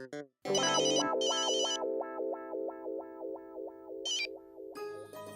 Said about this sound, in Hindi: जीनी को फोन करता हूँ।